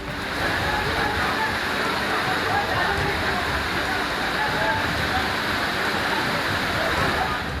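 Floodwater rushing during heavy rain, a dense, constant roar of torrential flow that stays loud and unbroken from start to finish.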